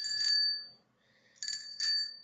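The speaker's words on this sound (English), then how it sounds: "going to ring the bell too" A small metal bell, like a bicycle bell, rung by a child: a bright ring that fades, a pause, then two more quick rings close by.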